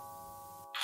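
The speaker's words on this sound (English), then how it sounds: "All right, I'm ringing the bell." A doorbell chime rings out with sustained tones, ending abruptly as a brief burst of noise cuts in.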